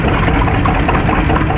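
Old general purpose stationary engine running on tractor fuel, a steady, dense, low rumbling chug filling the whole moment at close range, with no pauses or talk.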